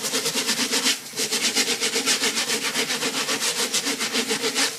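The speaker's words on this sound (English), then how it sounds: "This is a really stiff bristle brush, and I've actually, you can see it's all flared out because of how much I've used it to scrub" A stiff, flared bristle brush scrubs an algae scrubber screen in a reef aquarium setup with a fast, steady back-and-forth rasp. There is one brief pause near the start.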